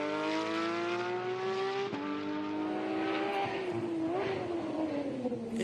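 Porsche 991 GT3 race car at a sprint event, its engine holding a loud, steady high-revving note close by, with a brief gear-change dip and pitch rising and falling as it drives on, no voices.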